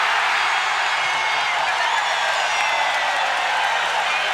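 A packed basketball arena crowd at an Orlando Magic versus Detroit Pistons preseason game, cheering in a loud, unbroken roar throughout.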